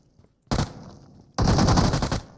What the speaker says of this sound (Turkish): Arkadan sıkıyor şimdi.